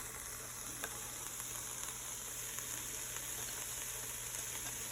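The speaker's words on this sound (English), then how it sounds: "Toss our onions in there." Chopped onions tossed into a pot for cowboy baked beans give off a faint, steady sizzling hiss that runs unbroken throughout, with no talking.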